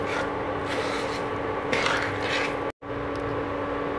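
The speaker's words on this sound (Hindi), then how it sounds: "बराबर चलाते हुए सभी चीज़ों को धीमी आंच पे मिक्स कर लेते हैं।" Khoya mixture stirred in a pan over a low flame, a continuous soft scraping and rubbing of a spoon against metal, close and moderately quiet, cut by a brief dropout near the end.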